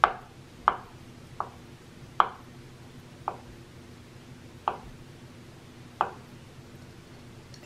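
A knife chops boiled eggs on a cutting board for Ukrainian Olivye potato salad, seven sharp, separate knocks about a second apart at an irregular pace, close and clear against a quiet room.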